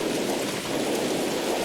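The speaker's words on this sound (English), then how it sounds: "The storm has picked up, so you better run in before you get soaked." Steady, dense rain from a thunderstorm in a PS1 horror video game, a continuous even hiss with no clear thunder claps, heard alone with no talk.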